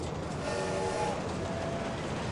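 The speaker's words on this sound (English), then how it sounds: "then under the train." A roller coaster in RollerCoaster Tycoon 2 runs under a passing train, with a steady, even rumble of rolling wheels held at constant loudness throughout, no voices over it.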